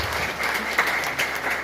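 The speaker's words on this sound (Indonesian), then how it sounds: "Kasih tepuk tangan bagi Tuhan." A church congregation claps and applauds during a sermon, a short burst of dense, even clapping heard fairly close.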